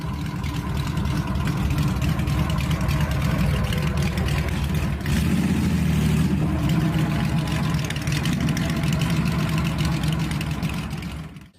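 A Honda flat-six motorcycle engine, the powerful, torquey kind used in the Goldwing and Valkyrie, runs steadily at a smooth low idle with a deep, continuous rumble, close and loud throughout, with no talk.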